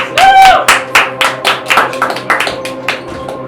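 Survivor contestants clap and cheer at a challenge, with crisp, close, irregular claps and a brief whoop at the start, tapering off toward the end.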